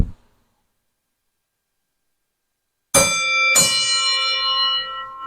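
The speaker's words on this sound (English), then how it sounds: "drive up to a gas station, run over that cord at full service and go ding ding" An old gas station driveway bell, the kind rung by a car rolling over the hose cord at a full-service pump, sounds two loud ringing dings after a silent pause, the second strike close behind the first and its tone lingering as it fades.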